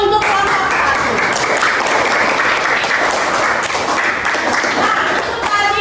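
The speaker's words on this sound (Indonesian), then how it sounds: "beri tepuk tangan untuk kelompok" A classroom full of students claps together in steady, dense applause that carries on for several seconds at an even, lively volume.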